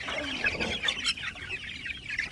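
Chickens clucking close by, a busy cluster of short, overlapping calls with no one talking.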